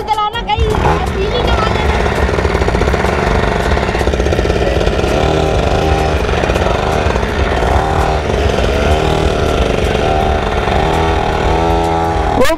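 A small motorbike at a school summer camp starts with a sharp burst, then runs with a loud, continuous buzzing engine drone, steady and close, while people talk over it.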